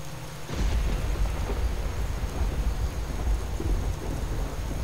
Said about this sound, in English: Lovely time to rain there